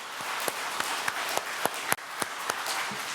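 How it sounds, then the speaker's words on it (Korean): Sparse claps from a church congregation during a Sunday worship service, a handful of separate sharp hand claps spaced irregularly over a faint room hum, moderately distant and fairly quiet, with no talking. "박수로 우리 한번 약속합시다."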